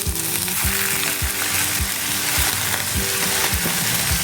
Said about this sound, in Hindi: अब हम इसमें डालेंगे 2 हरी मिर्च, 1 मीडियम साइज के टमाटर बारीक चॉप किए।